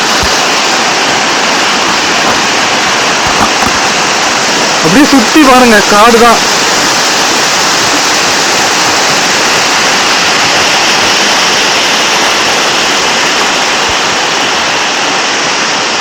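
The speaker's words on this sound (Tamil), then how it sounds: "இதுதான் திருவண்ணாமலை நீர்வீழ்ச்சி" Constant rushing water of the Jalagampari waterfall in the Yelagiri hills roars loudly throughout, with a voice speaking briefly over it partway through.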